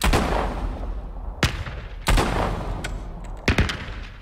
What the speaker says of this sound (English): I'm gonna aim with my right hand. There we go, and I'll shoot it.